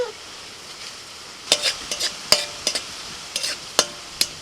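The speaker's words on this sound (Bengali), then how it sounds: "কড়াইতে সরষের তেল দিয়েছি, তেলের মধ্যে ফোড়নে দিচ্ছি শুকনো লঙ্কা," Dried red chillies and whole cumin tempering in hot mustard oil in a kadai, a soft sizzle broken by a series of sharp, close crackles and pops, with no talking.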